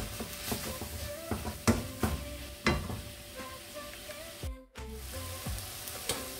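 Seasoned chicken sizzles steadily in a pan while being stirred for ramen, with close clanks and scrapes of the utensil against the pan, a brief drop in sound near the end, and no talking.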